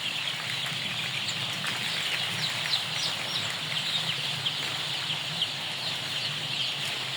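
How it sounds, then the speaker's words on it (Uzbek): Chickens and young chicks in a poultry house keep up a dense, steady chorus of clucking and cheeping. The sound stays even and continuous from start to end, and no one talks. "Doniyorbek, mana kuzatib turgan bo'lsangiz jo'jalaringiz"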